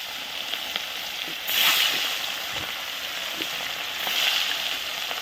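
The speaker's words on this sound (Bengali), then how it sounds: "তেল গরম হয়ে গেছে তো এখন আস্তে আস্তে মাছগুলো তুলে দিচ্ছি" Rohu fish pieces rubbed with turmeric and salt fry in hot oil over a wood-fired stove, giving a steady close sizzle that swells into louder bursts of spattering as more fish goes in.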